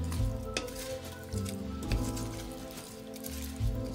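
Dressing being mixed through a cucumber and tomato salad, with soft, wet squishing and tossing strokes that swell in short bursts and repeat steadily, heard up close and alone.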